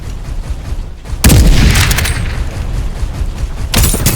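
Gunfire in the video game Farlight 84 hits as two loud booming shots about two and a half seconds apart, each followed by a short rattling tail over low game ambience.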